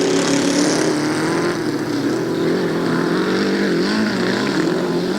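A grasstrack sidecar outfit at the 1991 South East championships runs at half throttle, its engine a steady, loud drone with a slightly wavering pitch throughout.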